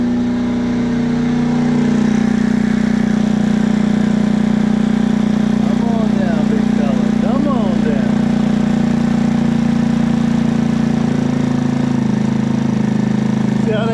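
A PMZ50 mini motorcycle engine, a Honda Grom clone, idles high and steady, a loud constant buzzing drone close by, with a brief faint voice partway through.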